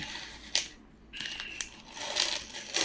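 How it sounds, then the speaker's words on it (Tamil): A Reserve Bank of India packet of uncirculated five-rupee coins is torn open, giving faint, close crinkling and crunching of the packet in short bursts with brief pauses, and no talk. "ரிசர்வ் பேங்க் ஆஃப் இந்தியா பாக்கெட்டை இப்போ தான் உடைக்கிறேன்"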